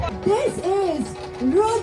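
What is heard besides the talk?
None of the usual background noises is heard.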